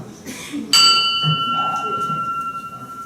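A hand bell struck once at a Rotary club meeting gives a bright, sharp ding whose clear ringing tone lingers and slowly fades, with room murmur underneath.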